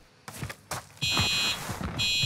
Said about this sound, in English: Wait lang, mag-mute muna ako. Ang ingay ng alarm.